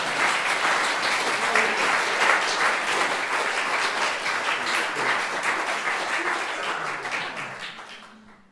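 An audience at a folk poetry performance in a small venue claps steadily and warmly for about eight seconds, a close, dense patter of many hands that tapers off at the end.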